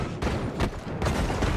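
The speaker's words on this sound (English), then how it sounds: "I hear shots." Rapid bursts of gunfire in the Fortnite video game, a dense volley of shots repeating several times close up, loud and continuous across the moment with no talk.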